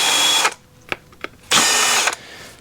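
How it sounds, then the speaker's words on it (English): A power drill spins a countersink bit to deburr a drilled hole on a Jeep CJ-2A brake light switch cover, sounding in two short loud bursts with a few brief clicks between them. "Then I take a countersink bit and just get rid of the little sharp burrs that creates."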